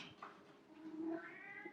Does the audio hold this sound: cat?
yes